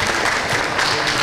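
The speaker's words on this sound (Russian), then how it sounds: "Аплодисменты." Brief audience applause at a televised quiz game, a loud, dense burst of clapping lasting just over a second with no talk.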